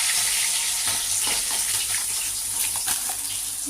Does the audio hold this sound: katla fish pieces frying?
yes